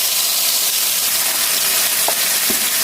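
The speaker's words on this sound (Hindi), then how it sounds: "ये ऑयल के अंदर हमने टमाटर डाल दिए और हरी मिर्चें साथ में डाल दी।" Tomatoes and green chilies frying in oil for a large batch of vegetable pulao, a steady broadband sizzle throughout with a couple of faint clinks near the end.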